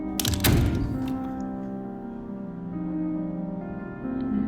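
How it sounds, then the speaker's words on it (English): A door is kicked in a horror visual novel game, landing as one heavy thud that rings over a sustained droning musical background. "what about kicking the door?"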